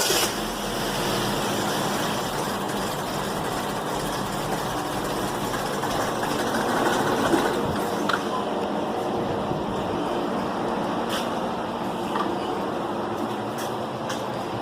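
A 2011 Chevy Equinox engine runs steadily after being cranked, a continuous low idle rumble at fairly close range with no one talking over it.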